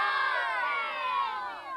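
A youth flag football team of kids shouts a cheer together on the visitors' side of a field, a loud, high-pitched burst of overlapping young voices lasting a couple of seconds.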